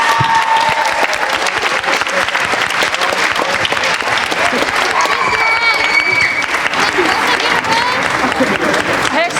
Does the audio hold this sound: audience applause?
yes